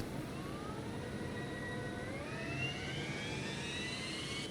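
The number 1 engine of a Phenom 300 jet in X-Plane 12 spools up with a faint, rising turbine whine over a steady broadband roar, smooth and continuous.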